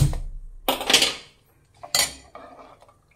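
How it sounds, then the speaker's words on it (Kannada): A pressure cooker lid is closed over sambar on the stove: two distinct metallic clanks and scrapes of metal on metal, fairly close, separated by a short pause, with faint rattling after each. "ಇಲ್ಲಿ ನಾನು ಕುಕ್ಕರ್ ಲಿಡ್ ಕ್ಲೋಸ್ ಮಾಡ್ತಾ ಇದ್ದೀನಿ."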